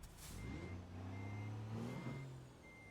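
A truck in American Truck Simulator backs up with a repeating high reverse beep over the deep hum of its engine, fairly faint and steady, with no talking.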